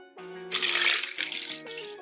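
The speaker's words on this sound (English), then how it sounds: "Add in 1 cup of milk." Milk is poured into a blender with a banana for a banana and date milkshake, giving a close, steady liquid splash in two bursts with short pauses, no talking.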